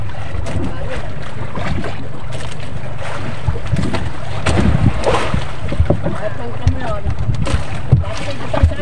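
A small wooden fishing boat (bangka) rocking on open sea during handline fishing, with constant loud wind and water rush, hull knocks, and voices talking over it.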